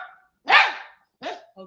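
A dog barks on command: one full, loud bark, a pause, a second shorter bark, then the start of a third. The barks are close and clear against near silence, with no talk.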